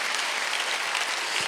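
A church congregation bursts into sustained applause during a Sunday worship service, dense and even clapping from a large crowd with no talking over it.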